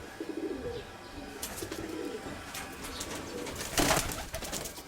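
Soft cooing of a young pigeon mixed with faint chirps and light wing flutters, steady low background noise throughout, no talking.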